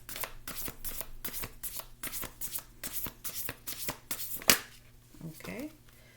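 Tarot cards are shuffled in a steady run of crisp riffling bursts, close and fairly quiet, ending in a sharper snap and a few soft handling rustles.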